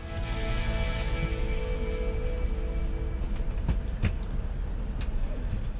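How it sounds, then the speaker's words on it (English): A high-speed train, the world's fastest line between Shanghai and Beijing, rolls into Beijing South Station; a steady low rumble with tonal whine and faint clicks fills the cabin, easing toward the end with a few sharp knocks. "our train pulls into Beijing South Station just a couple of minutes behind schedule"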